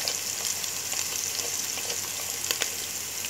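Ground spices (salt, red chili, turmeric, cumin and coriander powder) with ginger-garlic paste roasting in oil for aloo gobhi: a steady, close sizzle broken by occasional spatula scrapes and stirring clicks.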